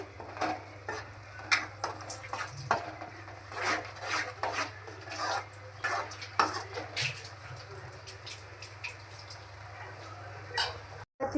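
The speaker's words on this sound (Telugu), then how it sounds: "కలుపుతూ ఉండాలి" Mushroom curry stirred in a pan, a spoon rubbing and scraping across the cooking surface in repeated, uneven strokes with occasional sharper clinks against the pan, fairly close over a low hum, no one talking.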